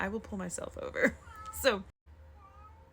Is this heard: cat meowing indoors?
yes